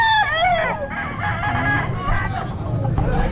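A Lemon Sweater gamefowl rooster crows loudly and close by at a busy pet market, one long wavering call over steady crowd noise.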